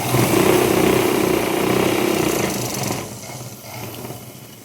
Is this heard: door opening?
no